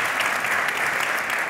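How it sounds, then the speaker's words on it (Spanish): Sustained applause from a seated audience at a panel discussion, dense and even clapping throughout with no voices over it. "Entiendo que le aplaudís a él, ¿no?"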